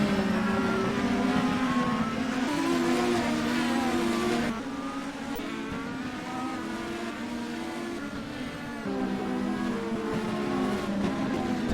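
IndyCar race cars roaring past on a racetrack at the Grand Prix of Indianapolis, loud sustained engine whine with rising and shifting pitch, several cars in close battle, dipping briefly then surging again.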